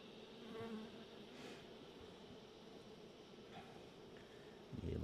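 Steady, soft hum of many honey bees buzzing around an open hive full of young nurse bees and brood, close and continuous, with a brief rustle near the end.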